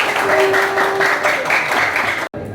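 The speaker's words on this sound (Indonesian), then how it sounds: "Tepuk tangan buat kelompok 1." Classroom applause for the first student group about to present, a dense steady patter of many hands clapping together for about two seconds before stopping abruptly.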